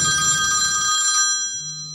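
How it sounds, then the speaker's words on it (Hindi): A telephone bell rings briefly with a bright metallic trill, then cuts off, leaving a faint hum. "तभी मेरा फोन बजता है।"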